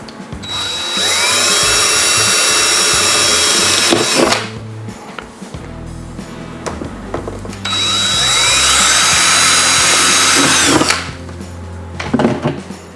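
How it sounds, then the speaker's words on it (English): A power drill whines loudly in two long bursts, pre-drilling holes in a custom metal sign, each spinning up and running several seconds, with brief clatter and handling sounds between them. "let's go ahead and pre-drill"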